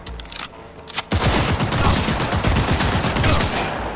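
An auto pistol in Cyberpunk 2077 fires a long, loud, rapid stream of automatic shots up close, after a few separate single shots.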